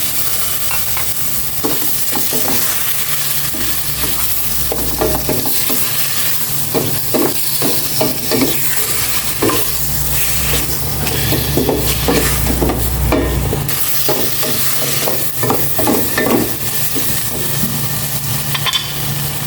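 Pork cubes sizzle loudly in a pan while a utensil stirs and scrapes them in repeated strokes, with a constant frying hiss underneath.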